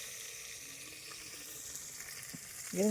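Hot oil sizzles steadily as spices temper in it for chicken gravy, with a louder splash of sizzling near the end as more goes into the pan.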